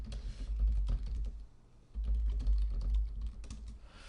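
Rapid clicking of keys on a computer keyboard, close and continuous, with a brief lull midway before the typing resumes.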